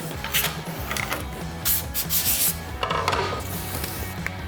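A barrel-cleaning tool spun inside a rifle barrel's throat to scrub out carbon, giving close, repeated rubbing and scraping strokes with bursts of harsher metallic rasping.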